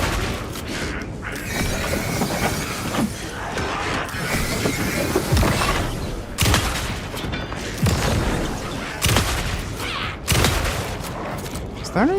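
Shotgun fire in the Alan Wake 2 video game: loud, sharp blasts repeat every second or so, each followed by mechanical clacks and creaks, over a busy game soundscape with some voice in the background.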